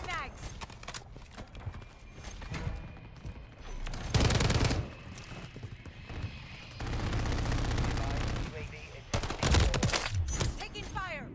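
Gunfire from an STG 44 in the video game Call of Duty MW3 comes in several loud bursts spread through the clip, mixed with rapid footsteps and game effects, and a voice talks over parts of it.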